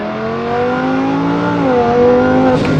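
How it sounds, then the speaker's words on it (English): Lamborghini Huracan exhaust while driving, fitted with a new Dodson Pro Max clutch: a steady, loud engine drone with smooth pitch sweeps as revs rise and fall, then a brief deceleration crackle near the end, with no talk. "This exhaust, oh god, the decel in this car, oh, it sounds so good."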